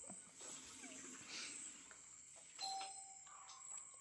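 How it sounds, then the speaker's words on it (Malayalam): A faint electronic doorbell chimes at a family home, a couple of thin ringing tones over quiet room hiss, the later tone sustaining briefly, with no talk. "മണി അടിച്ചതാ."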